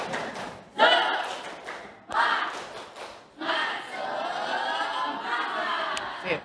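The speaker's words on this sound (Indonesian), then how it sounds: "biar lebih semangat lagi, tepuk semangat" A school class claps together in a rhythmic cheer pattern, with bursts of shouting and chanting voices joining in between the claps.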